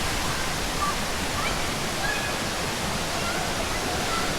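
Ton Sai Waterfall in Phuket, Thailand roars as a steady, dense wash of falling water, constant and fairly close with no break.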